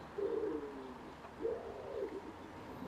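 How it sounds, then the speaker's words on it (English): A wood pigeon coos softly in the distance, a couple of low, breathy hoots over a quiet outdoor background. "Can you hear that wood pigeon?"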